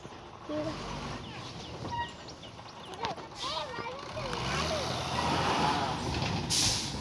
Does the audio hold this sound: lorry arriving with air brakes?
yes